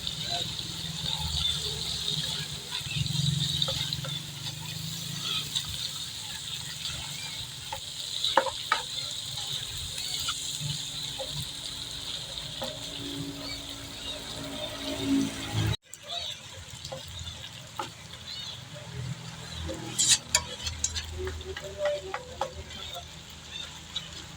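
Shrimp and mixed vegetables stir-fry in a pan with a steady sizzle, broken by spatula scrapes and stirring clatter, and a brief drop partway through before the frying resumes.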